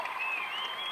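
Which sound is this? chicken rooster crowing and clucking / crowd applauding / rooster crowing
crowd applauding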